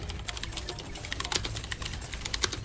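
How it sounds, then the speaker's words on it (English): Clicky mechanical computer keyboard typed at a steady, fast pace, sharp close-up key clicks filling the whole stretch with a low rumble beneath and no voices. "You're lucky you get to listen to Will's clicky keyboard"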